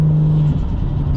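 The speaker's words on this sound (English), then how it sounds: "they do make a nice noise. The induction noise and the dose." A turbocharged car with an aftermarket intake kit and cooler accelerates briefly, giving a steady low rumble with whooshing induction noise and a faint dump-valve-like release at the end, no voices.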